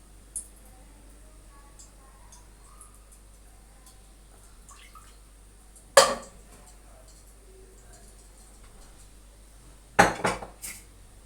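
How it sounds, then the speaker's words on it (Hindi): A metal cooking pot set down on a lit stove for mutton nihari, then oil spooned in: two sharp clanks of metal, one midway and one near the end, with a quiet kitchen background between. "मैंने चूल्हे पे देगची रख दी है। मैं इसमें ऑयल के भर भर के 2 चमचे ऑयल के डालूंगी।"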